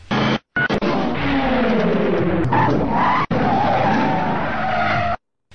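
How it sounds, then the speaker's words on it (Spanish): In the PC game Moonwalker, the hero transformed into a car drives to get past a barricade; a continuous loud engine whine with screeching tire skids runs for about five seconds, broken by brief silent gaps, with no talk. "Cuando los reúnes todos, te transformas en un coche capaz de superar la barricada al estilo del Coche Fantástico."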